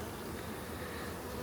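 Honey bees hum inside a hive split, a dense steady buzzing drone of many insects heard close up without pause.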